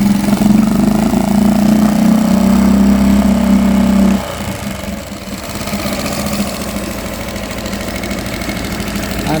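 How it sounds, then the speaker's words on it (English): A homemade draw-start boat engine runs loudly and steadily with a deep, buzzing drone, then the pitch and level drop partway through and it settles into a rougher, lower running note. "And this one is up and running. We're gonna give it a little rev."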